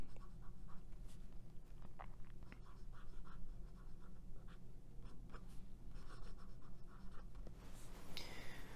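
A Pelikan M400 fountain pen nib scratches across paper in short strokes, faint and close, with slight roughness and small pauses between strokes.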